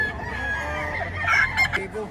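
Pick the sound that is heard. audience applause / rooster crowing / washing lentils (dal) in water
rooster crowing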